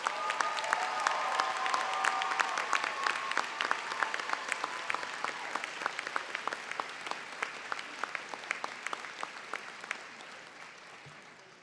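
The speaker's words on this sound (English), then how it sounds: "Please join me in a round of applause for these students and congratulations to each of you." Full audience applause for nursing master's and doctoral graduates at the Wegmans School of Nursing 2024 commencement, starting dense with a few cheers, then thinning to sharper individual claps as it gradually fades.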